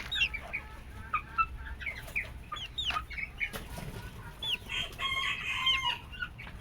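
Small bantam and Chinese silkie chicks cluck and cheep busily and continuously up close, a dense chorus of short overlapping peeps and clucks from a hungry flock.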